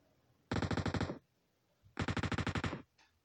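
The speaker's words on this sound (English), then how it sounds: "Come on, guys, stop shooting." Two bursts of rapid automatic gunfire in the PUBG battle royale video game, each about three-quarters of a second of loud, evenly spaced shots, separated by a short pause, with no talk.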